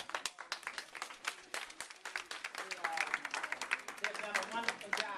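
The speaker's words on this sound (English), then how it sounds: "if we could give them a round of applause" An audience applauds young theatre performers, with dense clapping from a crowd that builds steadily and carries on throughout, heard from a distance with talk faintly mixed in.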